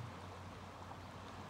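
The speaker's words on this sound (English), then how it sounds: "You can hear that water flowing." Steady broadband rush of water flowing in a stream at sundown in spring, constant and fairly quiet, with a low hum underneath and no voices.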